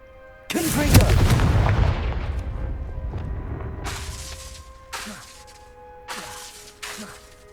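Confringo blasting spell fired in Hogwarts Legacy, a loud booming explosion with a long crackling decay, followed by several shorter, fainter blasts in a rough rhythm.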